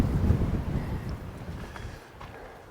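Desert wind rumbles and buffets against the microphone, a low blustery roar that gradually eases over a few seconds.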